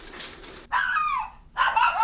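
A dog barks at a stranger in short, loud bursts, with a gap between them and a whining, yipping quality to each one.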